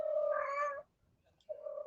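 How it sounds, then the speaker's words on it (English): A female house cat in heat gives two drawn-out, wailing meows close by, the first longer and the second starting after a brief silence. "that's my cat. She's in heat. Vampy."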